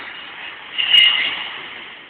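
A British Rail class 43 high-speed train unit passes, a steady hiss and rush that swells briefly in the middle then fades, with a faint tonal squeal at the peak.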